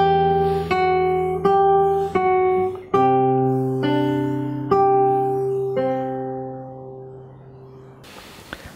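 Fingerstyle acoustic guitar plays a phrase: clear plucked notes in a steady, unhurried line, each ringing and overlapping, with the final chord fading out slowly.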